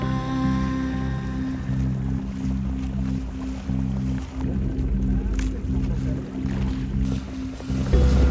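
Small boat motoring out through ocean waves off Bali at dawn, a steady engine drone with wash and surf around it, and a voice speaking over the top.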